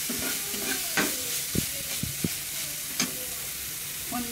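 Masala for a ribbon fish curry sautés in a pan with a steady, close sizzle. A spoon scrapes and stirs through it in several short strokes.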